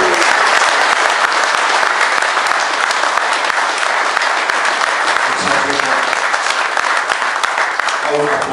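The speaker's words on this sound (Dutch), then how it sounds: "Applaus voor jezelf natuurlijk," A crowd at a BMW RT motorcycle club meeting in the Netherlands claps loudly and steadily for several seconds, dense applause close by with a few voices mixed in.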